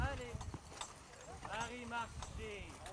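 Horses' hooves clip-clop at a steady walk as they draw a tractor hoe scraping the soil between vine rows at Château Soutard, with people talking over the plodding rhythm.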